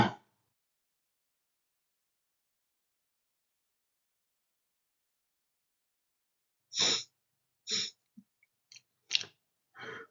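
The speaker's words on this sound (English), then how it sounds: "from the last few days I was catch up with coughing" A person with a lingering cough produces a short burst of separate, close coughs and throat sounds after a long silence, irregularly spaced, with no talk.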